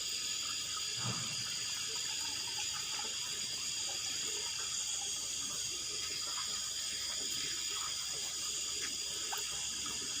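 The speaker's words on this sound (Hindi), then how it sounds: "दूध में हम आधा किलो पानी डालेंगे।" Water being poured from a container into half a kilo of milk in a pot on a gas stove while making strong karak tea, a steady splashing pour running continuously throughout without any talk.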